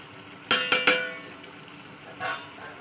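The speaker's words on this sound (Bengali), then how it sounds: "তেলের সঙ্গে মাংসের সঙ্গে মশলা সুন্দর করে কষে নিতে হবে" Chicken pieces being stir-fried with turmeric, salt and spices in hot oil for chicken kosa: three sharp sizzling bursts in quick succession over a steady frying hiss, then another softer sizzle as the meat is stirred.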